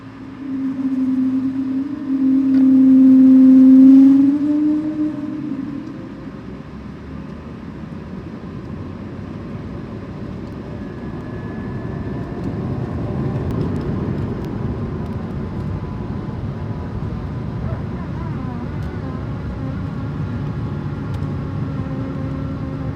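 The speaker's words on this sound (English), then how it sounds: "let you listen to the Wookiee spool up of the A220's Pratt &" Pratt & Whitney engines on an Air France Airbus A220 spooling up for takeoff, a loud low hum swelling early then settling into a steady broad rumble as the jet rolls, heard from inside the cabin with no talk.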